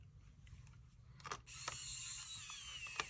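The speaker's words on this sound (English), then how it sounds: "put the screws back in" Screws driven into a keyboard switch PCB with a screwdriver, heard as close ratcheting and clicking, a few sharp ticks and then a steady whirring mechanical rasp over a low hum.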